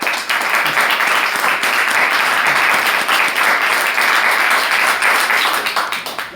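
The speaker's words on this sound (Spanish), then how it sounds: "Muchas gracias, un aplauso." Steady, loud applause from an audience at a book presentation in Madrid, dense clapping that holds for several seconds and fades slightly at the end.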